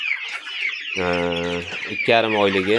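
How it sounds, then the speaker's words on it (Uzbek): Young Andijan black chicks kept in a cage for sale chirp in thin, high calls near the start, then someone talks over them. "Andijon qora jo'jalari sotuvda do'stlar"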